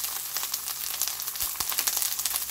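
Crisp continuous sizzle of dried shrimp and garlic scapes stir-frying in a pan with soy sauce, with scattered pops and crackles throughout, heard close up and alone.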